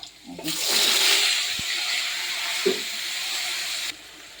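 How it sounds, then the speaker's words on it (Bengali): A fish head goes into a pan of lightly fried potatoes in hot oil, and a loud hissing sizzle surges up, holds for a few seconds, then cuts off. "এখন দেবো মাছের মাথা"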